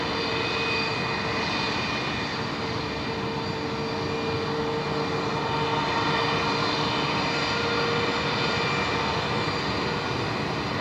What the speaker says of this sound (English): We are going to see the Qantas Link 1869 service come in first.